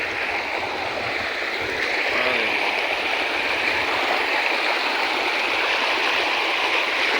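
Rushing floodwater after about an hour of heavy rain, pouring across a field embankment beside flooded paddy fields; a loud, steady broadband roar continues without a break.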